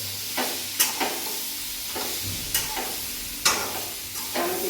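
Cowpea pods being stir-fried in a pan, with a few sparse scraping stirs against the metal over a low, steady sizzle.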